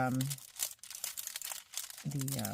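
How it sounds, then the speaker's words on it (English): Paper from a window envelope is carefully pulled away, giving close, continuous crinkling and light tearing, with a voice talking at the start and again at the end. "you get to listen to all the crinkling and stuff"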